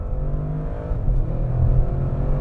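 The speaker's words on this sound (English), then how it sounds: "The transmission just churns through the gears so beautifully, so purposefully." A 2024 Audi RS6 Avant Performance wagon accelerates through its gears, its engine droning steadily with low, rich harmonics and a slight climb in pitch, heard from inside the car without talk.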